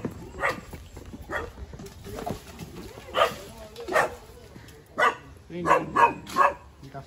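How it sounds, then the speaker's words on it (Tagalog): A dog barks in short, separate bursts, some close together near the end, fairly near, against faint background sound. "Hindi kasi may aso."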